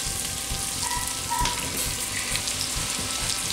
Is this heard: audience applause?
no